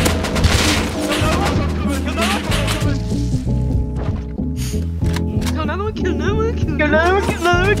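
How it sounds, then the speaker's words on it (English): AK rifle gunfire in the survival game Rust, with repeated gunshots and booms crackling through a tense firefight while several players talk excitedly over voice chat. "Oh, I hear the AKs."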